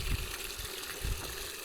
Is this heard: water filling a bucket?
yes